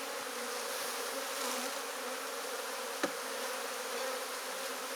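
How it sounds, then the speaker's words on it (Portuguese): Honey bees buzz steadily around a hive during a colony split, a dense, even drone of many wings holding close and constant, with one brief knock partway through. "Muita abelha, né?"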